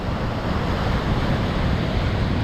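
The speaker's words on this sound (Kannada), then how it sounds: "ಈ ಅಲೆಗಳು ನೋಡ್ತಾ ಇದ್ರೆ" Monsoon ocean waves break on a beach in a steady, loud wash of surf mixed with wind buffeting the microphone, continuous with no pauses.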